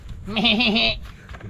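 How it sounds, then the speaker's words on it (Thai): A sheep at a farm-animal feeding spot gives one clear, wavering bleat lasting about half a second, close and prominent over low background noise. "ดูแกะนี่คือแกะมีแกะนะเนี่ย"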